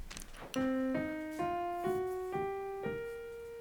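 Seven single notes of a minor blues scale climb steadily on a plucked string instrument, each sustained and evenly spaced, played alone.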